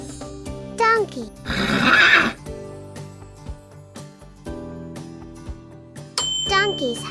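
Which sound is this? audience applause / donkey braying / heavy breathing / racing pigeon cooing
donkey braying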